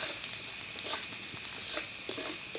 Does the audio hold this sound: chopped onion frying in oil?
yes